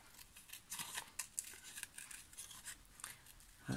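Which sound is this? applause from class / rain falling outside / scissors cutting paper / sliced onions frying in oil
scissors cutting paper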